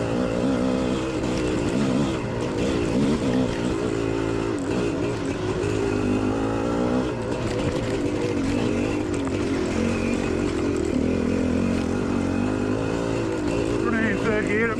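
A Kawasaki GPX motorcycle runs in third gear at Spaunton Quarry, its engine droning steadily and close throughout, with a rider's voice talking over it.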